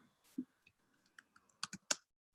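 A computer keyboard clicking in an office setting, several sparse, close clicks and clacks scattered unevenly, with a brief cluster near the end, over near silence.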